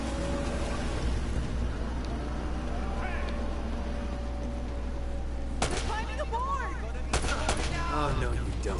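Gunfire in an Uncharted game firefight, with a couple of sharp, close shots cutting through a steady background hum and scattered distant pops, while a voice talks over parts of it.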